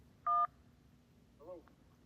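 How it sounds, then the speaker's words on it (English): A telephone gives a short, bright electronic tone, followed a second later by a softer warbling beep, both clear over a quiet background hum. "a few days later, my phone rings"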